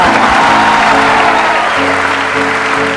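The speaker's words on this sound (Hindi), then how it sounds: "बजाओ ताली" An audience applauds at a talk event, a dense, loud wash of clapping that holds steady for a few seconds.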